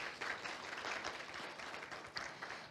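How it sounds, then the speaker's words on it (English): Audience at a county town hall applauds a public services director, a soft, distant, steady wash of clapping from a seated crowd heard for a few seconds. "If we can just give her an applause for being here tonight."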